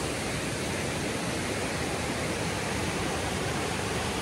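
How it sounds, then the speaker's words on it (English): A swollen mountain creek in New Hampshire's White Mountains, running high after heavy rain, rushes in a steady, dense roar that fills the whole clip with no pauses or voices. "even this is pretty high. Mountain Creek."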